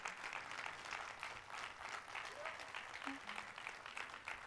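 A church congregation at an anniversary service applauds steadily, a faint, even wash of many hands clapping that continues throughout.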